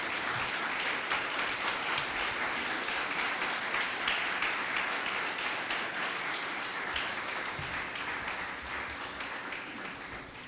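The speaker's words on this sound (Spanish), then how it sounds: "Dale un aplauso al Señor" Church congregation applauding during a Spanish-language sermon, a steady, dense wash of clapping that holds for the whole stretch and slowly fades toward the end.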